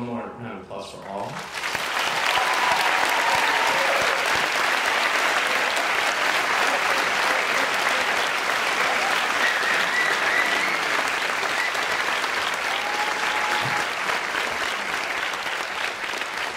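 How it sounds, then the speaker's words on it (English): Sustained audience applause at a Williston commencement ceremony in 2014, a dense crowd clapping that swells in after a quiet moment and continues steadily and loudly for many seconds. "Can we have one more round of applause for all?"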